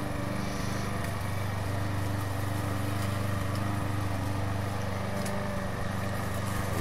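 Steady, loud engine drone of a lawn mower cutting grass in the video game House Builder, a constant motor hum running without a break and without talk.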